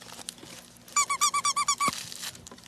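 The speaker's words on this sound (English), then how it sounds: "Crinkly body, crinkly arms, squeaky head." The squeaky head of a plush alien dog toy with a crinkly body squeaks about nine times in a quick, even run. The squeaks are close and clear over a quiet room.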